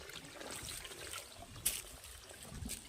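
Liquid jivamrut fertilizer flows from a bag through a pipe on a farm, making a faint, thin trickle with small splashy bursts. There is no talking.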